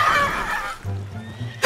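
A horse in the video game Red Dead Redemption 2 lets out a loud, close whinny that fades into a low snorting rumble, ending with a short sharp sound.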